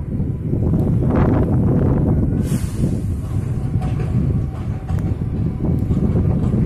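Strong gusts and light rain sweep across a railway track at a double-line switchover, a loud, continuous roar of wind buffeting the microphone with a faint whistle-like tone partway through and no talking.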